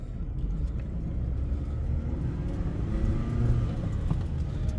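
Daihatsu Mira TR-XX Avanzato R kei car driving along, with a steady low engine and road rumble throughout the cabin, fairly even in loudness with a slight swell near the end.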